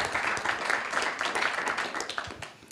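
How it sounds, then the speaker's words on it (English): An audience at an innovation challenge awards event claps for a competition team, a brief burst of moderately loud scattered applause that tapers off. "Have a round of applause for Team 4."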